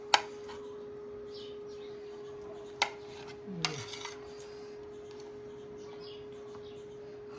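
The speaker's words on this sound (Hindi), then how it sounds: "इस शेप में मैं आलू काट लूँगी" Potatoes cut into shape with a kitchen knife: a few sparse, crisp clicks and a short scrape against the board over a steady low hum.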